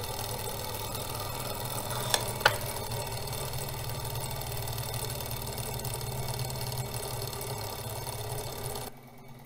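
A homemade external combustion engine heated by a wood stove, generating electricity, runs with a steady, continuous mechanical whir and hum close by, broken by two brief clicks early on, then cuts off near the end.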